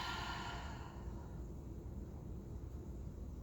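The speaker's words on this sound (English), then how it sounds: "focus on the sound of your breath as it enters into your lungs through your nose" Steady, airy breathing in and out through the nose during a yoga sun salutation practice, loud and close with a continuous rushing hiss that tapers slightly, and no talking.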